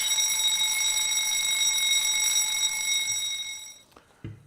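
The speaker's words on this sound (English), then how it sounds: "So now we got a fire alarm" A building fire alarm rings steadily with a loud, high electronic tone for about four seconds before cutting off, followed by a couple of faint thumps in a quiet corridor.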